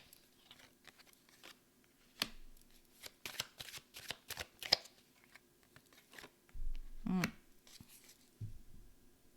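A deck of cards being shuffled by hand at close range, with bursts of riffling and snapping interrupted by pauses, and a voice briefly heard in between.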